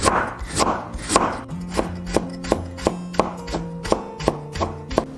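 A knife cutting tender young ginger into fine slivers on a board: a steady run of crisp, close chopping knocks, about a dozen evenly spaced strokes that quicken slightly, with no talking.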